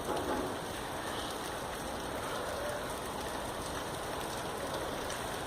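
Steady rain falls on a cold day, soaking a tripod outdoors, a dense even hiss of drops on surfaces that runs unbroken and fairly loud with no talking.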